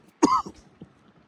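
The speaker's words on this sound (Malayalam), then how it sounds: "വല്ലാത്ത ചുമ" A single sharp cough, close and fairly loud, followed by a softer throaty after-sound and a faint trailing noise.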